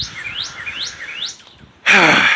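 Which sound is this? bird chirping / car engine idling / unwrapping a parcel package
bird chirping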